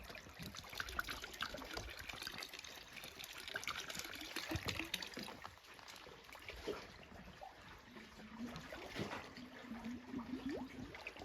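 Water trickles and gurgles steadily into a sample bottle during water quality sampling, a continuous close wash of flow with bubbling toward the end.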